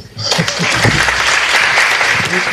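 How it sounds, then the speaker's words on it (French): Graduates of a business law master's programme applaud each other at a ceremony, a dense crowd clapping that starts abruptly and carries on steadily and loud, with a voice faintly present beneath. "je vous propose que vous vous félicitiez les uns les autres en vous applaudissant"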